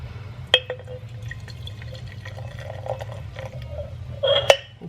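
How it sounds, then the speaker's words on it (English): Sparkling wine fizzing just after being opened for a New Year's toast, faint crackling bubbles and small drips with a couple of sharper clinks, steady and close, no talking. "It's bubbling."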